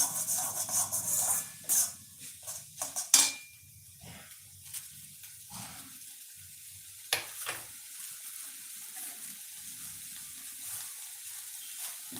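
Food sizzles and crackles in a pan, loud at first and then settling into a softer, steady fry with occasional clinks of a utensil.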